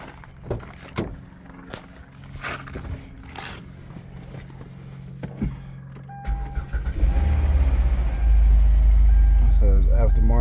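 A car at an insurance auction, fresh brake fluid and coolant added, cranks and starts: quieter clicks and handling noises give way near the end to a loud, steady engine idle, with a voice speaking briefly earlier.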